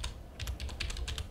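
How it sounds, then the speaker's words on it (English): Keys clacking on a computer keyboard while a supplier name is entered during stock management work, several quick bursts of close, crisp keystrokes in an uneven rhythm, with no talking. "Then you type in the supplier name."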